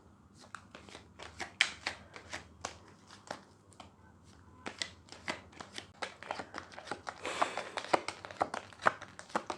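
Lenormand cards shuffled by hand nearby, with a steady run of light papery flicks and taps that grows busier and louder toward the end, and no talking.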